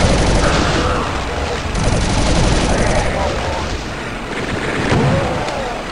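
Chaingunners and an arch-vile pour rapid gunfire into the center of a Doom map from Sunlust, a dense, continuous roar of machine-gun bursts and explosions that stays loud throughout.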